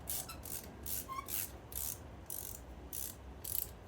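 A ratchet wrench loosens the bottom brake caliper bolt on a Ford Fusion with a quick series of rhythmic clicking bursts, close and faint, about eight clicks in under four seconds.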